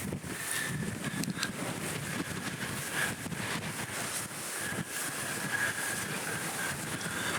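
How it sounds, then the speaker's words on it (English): Strong wind buffets the microphone outside an abandoned farmhouse, a constant rumbling roar with gusty swells and no break. "If you can hear me over that wind."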